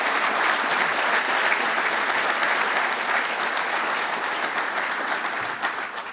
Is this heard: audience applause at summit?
yes